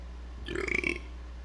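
A single short, gurgling burp, fairly quiet, over a low steady hum.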